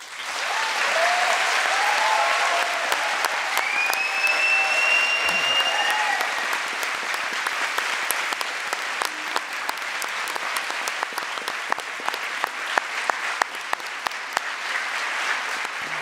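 Sustained applause from the audience at an international arbitration moot court final, dense and steady clapping that thins slightly toward the end, with a few faint voices and whistles mixed in early on.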